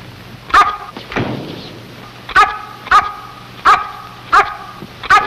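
A dog barks loudly and close by in a recurring series of sharp barks, roughly five or six evenly spaced, with a brief low rumble between the early barks and no speech.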